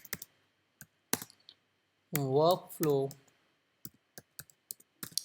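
Sharp keystrokes and mouse clicks on a computer keyboard come in scattered bursts, close and crisp, with a short stretch of talk in between.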